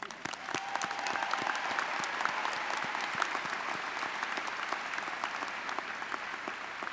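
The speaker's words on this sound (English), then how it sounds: "Give yourself a round of applause." Graduates and guests at a fall commencement ceremony give a steady round of applause, a dense, moderately distant patter of many hands clapping that holds for several seconds and slowly thins.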